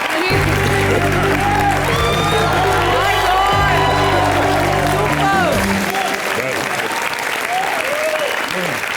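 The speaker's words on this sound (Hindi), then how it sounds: "जोरदार तालियां हमारे बच्चे के लिए।" Loud audience applause and cheering fill a comedy show stage, sustained and dense with a few whoops, while a host's voice talks over the clapping.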